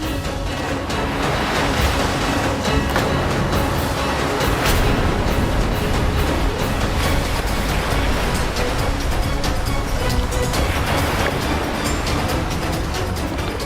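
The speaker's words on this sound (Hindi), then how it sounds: "मेरे कमंडल से तो जल बहने लगा, इस बहाव को रोकना होगा मुझे।" Water pouring out of Brahma's kamandal, a loud, dense, continuous rushing roar like a strong torrent that holds steady throughout.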